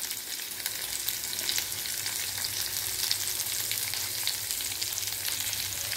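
Ingredients for a side-dish gravy sauté in a hot pan, salted, giving a loud, continuous hiss and crackle of frying that holds steady throughout, with no voices.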